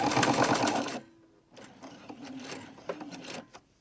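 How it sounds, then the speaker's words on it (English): Sewing machine stitching along the edge of shopping bag fabric while backstitching, a fast close mechanical whir that runs steadily, stops for a brief pause, then resumes in shorter uneven bursts. "Backstitch, go back, and sew to this corner."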